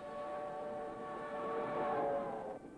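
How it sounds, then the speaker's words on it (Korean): A refugee train departing during the Korean War, heard as a steady, continuous rumble of rolling cars and machinery with faint tonal hum, fairly loud throughout and easing slightly near the end. "이윽고 기차는 떠난다."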